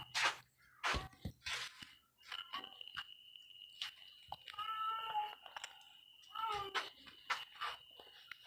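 A cat meows a few times, short rising cries scattered among crunchy chewing noises and nearby voices talking.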